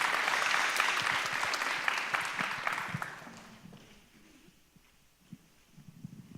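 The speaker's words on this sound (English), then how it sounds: "if we can just give a round of applause to our panelists," Audience applause for a panel at an immigrant integration summit session, a dense clatter of many hands for about three seconds that thins out and fades into scattered claps and room noise.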